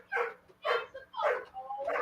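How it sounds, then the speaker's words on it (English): A dog barks and yips several times at a distance, in short repeated bursts with a faint steady hum behind them and no talk over it. "is it a dog barking?"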